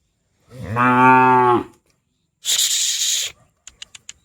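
A newly acquired farm calf gives one loud, close moo lasting about a second. A breathy hiss follows, then a few quick clicks.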